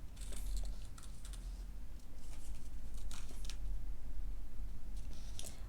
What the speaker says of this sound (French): Voilà, donc je vais découper en zigzag.